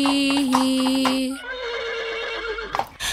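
A horse neighs loudly in a long, wavering whinny that fades out, followed by a brief, quieter snort-like burst near the end, all close and clear with no talking.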